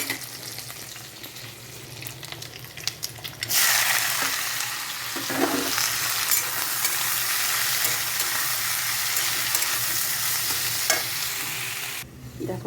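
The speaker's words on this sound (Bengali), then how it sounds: "ডিমগুলো আমি খুব সুন্দর করে ভেজে নেব" Eggs frying in a pan, a steady loud sizzle that starts suddenly partway through and holds to the end, with a few faint scrapes and clinks beneath it and no talking.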